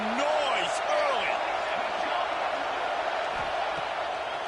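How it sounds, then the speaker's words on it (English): Stadium crowd at a Premier Lacrosse League game between Utah and North Carolina, a steady loud roar with scattered whistles and shouts throughout, under play-by-play commentary. "This crowd bringing the energy and noise early."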